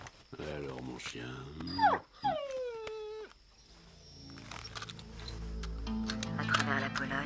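A dog whimpers and whines in a high, sliding tone close by in a film scene, mixed with voices talking and background sound.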